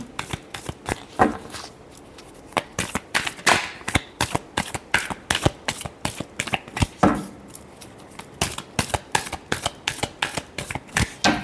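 Tarot cards are being shuffled by hand in a rapid, steady series of crisp riffling slaps and flutters, close and fairly loud, continuing without pause for the whole stretch.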